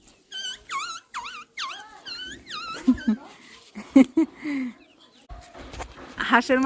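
A person imitates a puppy's call with a run of high, whiny yelps that drop in pitch, then rougher mumbling sounds and a final squeaky whimper. It is close, at moderate loudness.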